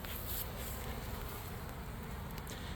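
Dense, steady buzzing of honeybees at a hive entrance in late September, a continuous close droning swarm with no voices.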